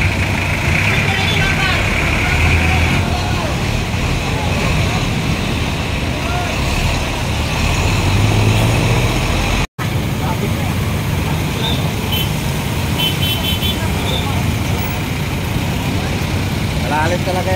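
Vehicles idle and crawl along a flooded highway, a dense, steady rumble of engines with splashing water underneath, loud and continuous, while people talk over it.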